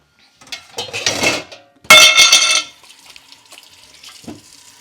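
Dishes clatter in a kitchen sink as they are washed, with two bursts of running water and clinking plates and cutlery, followed by quieter scattered knocks.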